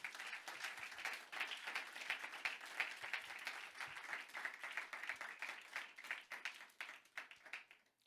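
Church congregation applauding during a Sunday worship service, a dense, steady wash of many hands clapping at moderate volume for several seconds, tapering slightly toward the end.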